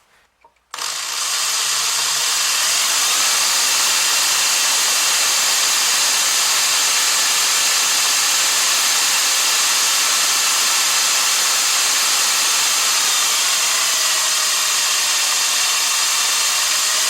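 A microwave oven cooling fan spun by hand as a generator starts abruptly and then gives a steady, loud, unbroken whirring hiss for the rest of the clip, with no voices.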